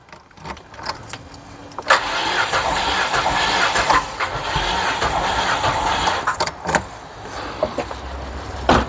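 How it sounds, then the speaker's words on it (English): A car engine cranks and stumbles as one cylinder fires only intermittently, giving an uneven, sputtering run with irregular pops and surges, close and loud, no speech. "Cylinder 3 sometimes fires, but sometimes doesn't."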